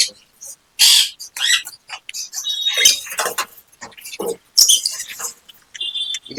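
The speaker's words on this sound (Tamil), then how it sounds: "நம்ம கிட்ட இதெல்லாம் பாத்தீங்கன்னா டேம்டு லவ் பேர்ட்ஸ்." Tame African lovebirds give short, sharp chirps and squeaky calls in scattered bursts close by, with gaps of quiet between them and people talking nearby in a pet shop.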